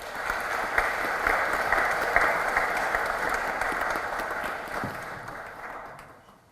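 Audience applause at a church ceremony, a dense, sustained wash of many hands clapping in a large hall, holding steady at moderate loudness before fading out at the end.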